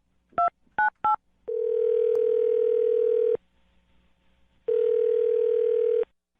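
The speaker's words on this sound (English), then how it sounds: "I'm dialing his phone right now" A telephone is dialed before a radio call: three short keypad tones, then a loud, steady dial tone that holds for about two seconds, stops, and returns for another stretch.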